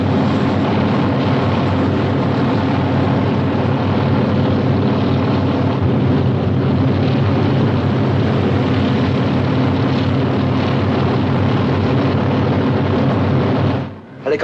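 Helicopter flying overhead in a 1950 British film, a continuous loud rotor and engine roar with rumbling low end sustained for about fourteen seconds, fading sharply at the very end.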